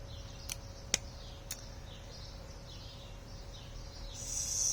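A few faint bird chirps sound outdoors, with three sharp clicks near the start, a steady low hum underneath and a brighter rise in chirping at the end.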